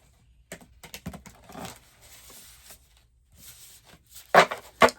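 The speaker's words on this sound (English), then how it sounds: "We're going to shuffle some cards here." A deck of cards is shuffled at a table in quick riffles and taps, soft papery flutters broken by a few sharper snaps near the end.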